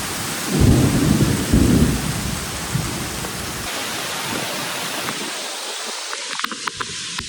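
Heavy rain mixed with hailstones pours down at a Buddhist temple in Thailand during an afternoon storm. Loud, close thunder rumbles twice near the start, then a dense, steady roar of rain and hail carries on.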